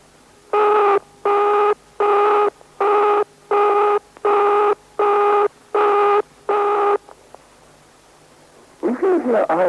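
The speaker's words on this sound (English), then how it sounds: "Alternatively, the engaged tone may sound like this." An alternative form of the 1971 British telephone engaged tone sounds as nine regular bursts of steady buzzing with short gaps between, clear and isolated, before a voice begins speaking at the end.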